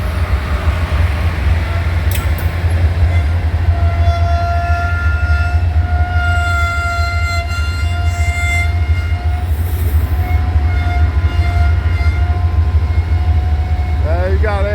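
Air brakes on a freight train led by GE and EMD locomotives, including an SD70 and a CM44AC, hold a steady, piercing high-pitched squeal over a loud, continuous rumble, heard up close.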